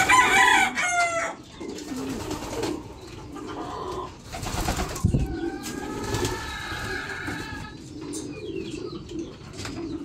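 Racing pigeons coo and call at a loft in Gapan, Nueva Ecija, with many close soft cooing phrases overlapping and some brief flutters and other bird chirps.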